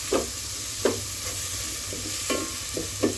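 Okra curry with tomatoes sizzles in a pan while being stirred, a soft steady fry broken by a few sharp scraping strokes of a spoon, close and without talk.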